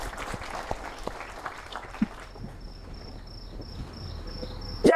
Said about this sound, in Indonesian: Yang setuju tepuk tangan yang meriah